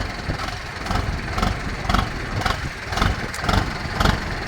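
A car engine idles with a steady rumble and a soft rhythmic pulse, close by and moderately loud, as the driver shifts into first gear.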